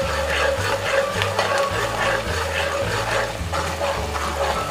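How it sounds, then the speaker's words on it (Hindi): Ginger garlic paste sautés in a pan for Lahore-style murgh chanay, with a continuous close sizzle and soft scraping stirs over a low hum. "अब इसके अंदर हम ये खाने वाला चम्मच अदरक लहसुन का पेस्ट डाल लेंगे और इसकी भी अच्छी सी भुनाई कर लेंगे"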